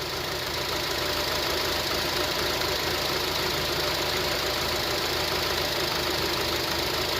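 A 2007 Honda CR-V engine idles while running very rich, giving a steady, dense rumble with a faint knocking texture that holds evenly and close by the whole time, with no voices.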